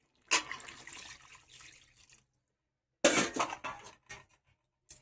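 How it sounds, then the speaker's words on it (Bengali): Water runs and splashes into a cooking pot for Bengali fish curry in two separate pours, with a brief pause between them, close and moderately loud, with no voices. "যারা একটু ঝোল খাবে তারা এই সময় আর একটু জল দিয়ে দেবো"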